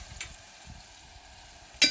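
Onions and green chillies fry in a pan for a potato and cauliflower curry, giving a soft, steady sizzle close by, ended by a brief sharp clink of a utensil.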